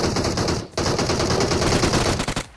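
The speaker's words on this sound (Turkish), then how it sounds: "Silah olmayan insanlar ne sıkıyorsun?" Rapid automatic gunfire from a PUBG Mobile match, loud dense bursts that cut out briefly near the start, then rattle on continuously before tapering off at the end.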